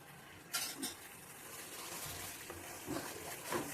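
Badam halwa made with ghee is stirred in a pan, producing faint scrapes and light metallic clinks of a spoon against the pan at a few scattered moments over a quiet, low hiss.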